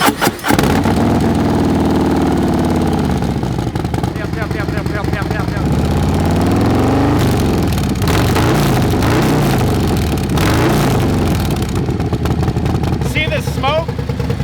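A Harley-Davidson Road Glide engine with a newly installed Blockhead 2-into-1 exhaust cranks and fires up for the first time, then settles into a loud, rumbling idle with revving swells, close by; someone speaks over it.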